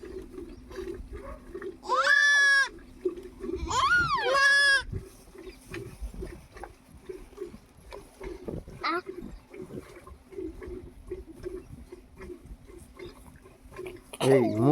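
A young goat bleats in two loud, wavering bursts on a village farm, with another short cry near the end and scattered rustling and bumps between.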